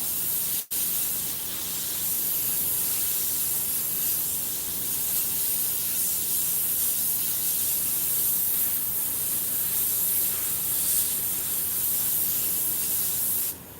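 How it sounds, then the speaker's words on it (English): An airbrush sprays a steady, close hiss while cleaning up painted lines, running almost without break for the whole stretch, with only a brief cutoff near the start. "I'm just using the airbrush to clean up and make these lines nice and clean"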